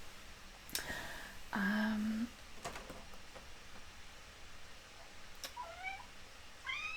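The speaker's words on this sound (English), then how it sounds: "hang on one second, I'll get this cat out here" A cat meows nearby, giving two drawn-out cries followed by softer, shorter mews, against faint room noise and a few light knocks.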